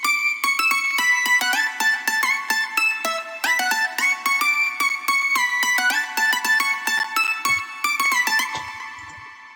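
Bright electronic counter melody from the final drop of a song, a steady run of quick plucky synth notes in a lively rhythm, fairly loud and alone, fading slightly at the end.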